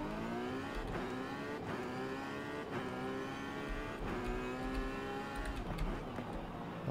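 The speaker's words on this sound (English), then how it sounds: "I really like the sound. It's so aggressive. You can tell we have a big, big engine." A Ferrari California T convertible sports car in the racing game Forza Horizon 5 revs its big engine aggressively, climbing through gears with repeated rising pitch sweeps and sharp shift breaks, loud and continuous.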